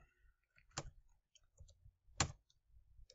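Two sharp, isolated clicks about a second and a half apart, keys being struck while typing into an Excel spreadsheet cell on a computer keyboard, faint and close with quiet room noise between.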